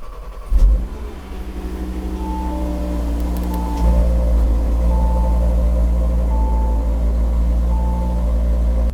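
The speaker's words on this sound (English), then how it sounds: "Time for a cold start it is." Audi RS3 8Y five-cylinder engine cold-starting: a sharp crank and catch, then a loud, steady high idle that holds close to the microphone with a firm, even drone and no talking.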